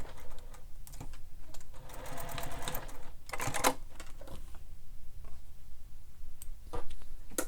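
Domestic sewing machine stitching through thick vinyl bag material, a steady mechanical whir with rapid ticking that runs in bursts and pauses, close and fairly loud.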